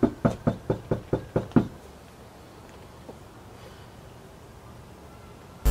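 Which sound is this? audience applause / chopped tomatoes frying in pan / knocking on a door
knocking on a door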